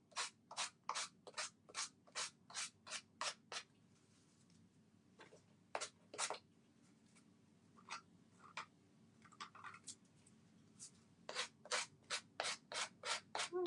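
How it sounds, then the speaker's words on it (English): Rhythmic rasping strokes of sandpaper on a foam sanding block as the edges of a napkin-art Halloween craft piece are sanded off, quick bursts of close scraping with a pause midway, then another steady run of strokes. "And I'm sanding off all of the edges this time."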